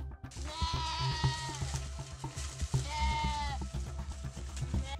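A goat bleats twice in long, wavering cries after being attacked by a Komodo dragon, heard close over steady background noise and scattered knocks.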